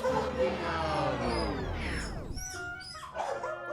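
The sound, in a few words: dog whimpering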